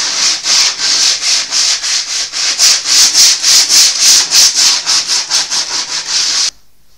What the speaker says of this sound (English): So by sanding you close the pores a little bit